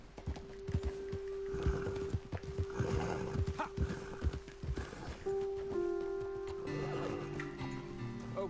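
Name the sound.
horses galloping in a video game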